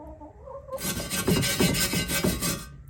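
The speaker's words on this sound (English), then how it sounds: "chicken, go away" A chicken near a 1924 Model T clucking softly in a few short calls, then a harsh rhythmic scrubbing takes over, close and steady.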